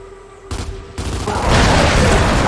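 Gunfire in Gears 5: sharp broadband shots crack out at a target in quick succession and build into a loud, sustained burst of fire.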